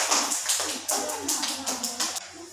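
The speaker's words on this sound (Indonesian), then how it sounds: "Tepuk tangan untuk kelompok 2" Classroom students giving a short round of applause for group 2, several quick uneven bursts of clapping over a few seconds, fairly close.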